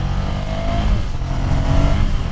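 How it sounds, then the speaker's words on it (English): A scrambler motorcycle pulling away in first gear on a canyon road, its engine a loud, close, continuous low drone that rises in pitch as it accelerates. "And I'm on a bike, which makes me happy. First gear!"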